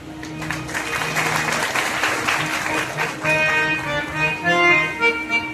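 An audience claps after a talk at a spiritual gathering in Surat; the scattered applause is mixed with sustained tonal voices or music and grows patchier toward the end.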